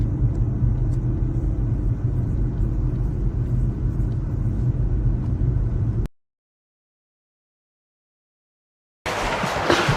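A car driving slowly along a road, heard as a low, steady rumble of engine and tyres that suddenly cuts to silence for a few seconds before the noise returns.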